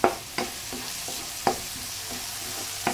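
Fish and leftover vegetables (carrots, moringga leaves, pechay) being sautéed in a pan, with a few sharp scraping stirs of a utensil over a steady soft sizzle, no voices.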